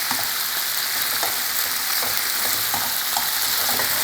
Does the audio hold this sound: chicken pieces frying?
yes